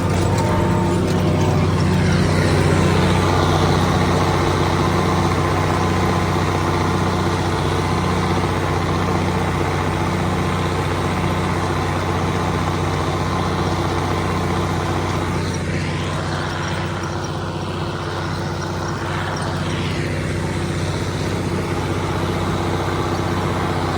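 A Versatile 875 tractor engine idles steadily after a cold start, a continuous low diesel rumble with a regular mechanical pulse that stays loud and close throughout, with no talking.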